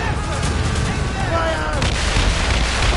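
Ship cannons fire in Assassin's Creed Rogue in a rolling barrage of deep booms over sea noise, with shouting crew voices and whistling tones mixed in.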